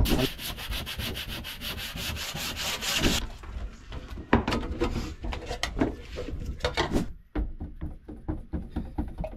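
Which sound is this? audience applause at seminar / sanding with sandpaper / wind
sanding with sandpaper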